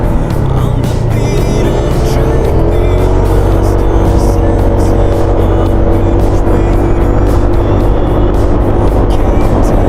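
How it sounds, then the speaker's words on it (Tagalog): A jeep approaching and passing during a night motorcycle ride in Sampaloc, heard under the rider's loud, steady engine roar and rushing wind, with the passing vehicle's rise folded into the constant motor noise. "Oh, may salubong. Jeep."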